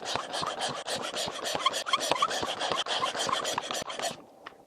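A brush scrubs grit out of a drilled bolt hole in quick, rasping strokes, steady and close, ending with a short pause and one final light scrape.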